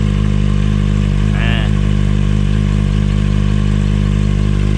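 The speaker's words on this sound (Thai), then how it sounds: "เสียงเดินเบานี่นุ่มกว่าท่อเก่า" A Kawasaki Ninja ZX-25R sport motorcycle with an aftermarket Akrapovič exhaust idles steadily up close with a deep, even exhaust rumble, broken by a brief higher tone partway through.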